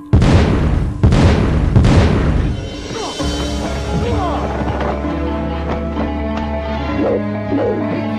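Three sharp, loud whip cracks ring out about a second apart in an Indonesian audio drama, followed by a droning, echoing background with faint tonal sounds.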